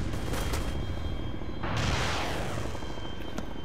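Video game rocket fire: a low rumbling blast followed by a rushing whoosh, with distant booms and gunfire in the background, moderately loud.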